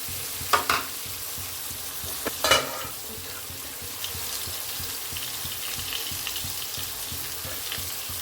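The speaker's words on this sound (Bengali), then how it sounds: "একটু নেড়ে দিই, আর একটু ভালো করে ভাজা হোক" Pointed gourd (potol) frying in oil with spices in a pan gives a steady soft sizzle, broken early on by two sharp scraping clatters of a spatula stirring against the pan, with no talk.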